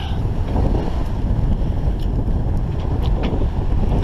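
A sailboat on Lake Erie sails into oncoming waves, giving a steady, loud rush of water and hull noise with heavy wind buffeting the microphone, and no voices.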